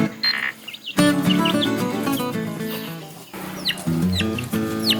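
Chickens cluck and squawk close by in quick bursts, several birds overlapping with sharp calls and busy chatter.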